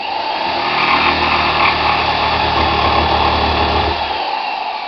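A jigsaw cuts through a wooden plank, its motor buzzing steadily and fairly loudly for about four seconds before cutting off, alone with no talk.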